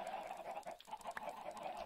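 Chickens clucking in Minecraft, a steady busy chatter of several birds with short repeated clucks, fairly close and continuous with no talk.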